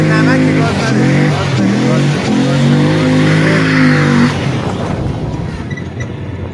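A rig car's engine revs and strains while driving across an Iranian desert, a loud droning roar that holds steady and then eases off, with voices talking over it inside the cabin.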